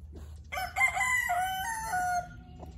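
A rooster crows loudly and close by in a farmyard where a hen sits warming her eggs, one long drawn-out call with faint clucking after it.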